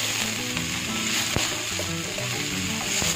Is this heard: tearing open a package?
no